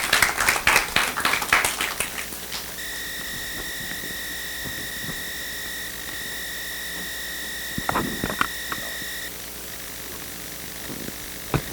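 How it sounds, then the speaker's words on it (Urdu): An audience at an Urdu-language speaking event claps to welcome a speaker. The dense applause lasts about two seconds, then gives way to a steady electronic tone and a few scattered claps. "آپ کی زوردار تالیوں میں استقبال کیجیے"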